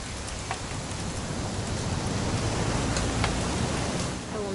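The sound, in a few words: rain in a video game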